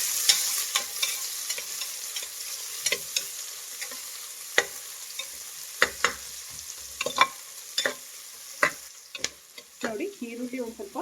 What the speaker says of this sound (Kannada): ಇದನ್ನು ಚೆನ್ನಾಗಿ ಈರುಳ್ಳಿ ಸಾಫ್ಟ್ ಆಗೋದು ಫ್ರೈ ಮಾಡಿ.